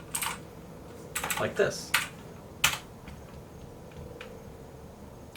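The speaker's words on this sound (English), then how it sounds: "You should just be able to type freely in here," Keystrokes on a computer keyboard while entering values into an Excel spreadsheet, a few scattered quick clicks and short bursts, fairly faint, with a voice speaking briefly.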